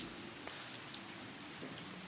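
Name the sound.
rain falling at lakeside park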